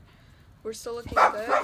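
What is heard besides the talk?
dogs barking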